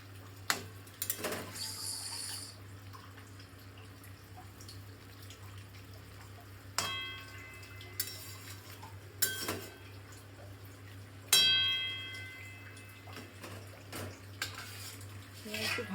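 Parshe fish pieces go into a simmering fish curry with eggplant, heard as scattered close metallic clanks and pan knocks, one ringing strongly, over a steady low hum and quiet bubbling.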